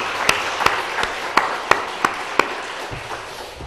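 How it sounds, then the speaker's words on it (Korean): A congregation at a Wednesday church service gives a round of encouraging applause, a handful of distinct sharp claps standing out over a soft, thin wash of clapping in a large room. "뜨거운 박수로 우리 한번 격려합시다."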